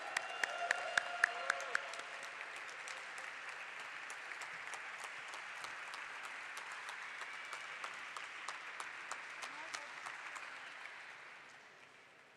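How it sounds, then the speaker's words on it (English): An audience applauds steadily at the Swiggy Limited IPO listing ceremony, a sustained wash of clapping from a large hall that fades out near the end, with a few brief voices at the start. "So let's give them a huge round of applause."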